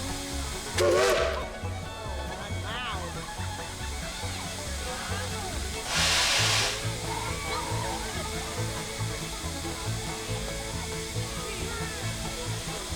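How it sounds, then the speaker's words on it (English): Two loud blasts of hissing steam rise over the steady low chuffing of a steam locomotive getting under way at Dollywood, with faint voices underneath. "So here you're gonna hear this train whistle and take off."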